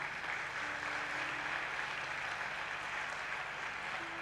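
A church congregation claps steadily in acclaim of Jesus Christ during a worship service. The applause is dense and continuous at moderate distance, with faint voices mixed in beneath it.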